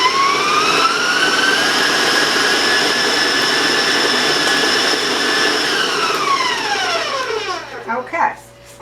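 Electric mixer beating vanilla into chocolate sugar cookie dough, a steady loud whirring hum that holds for most of the stretch, then sputters and winds down near the end.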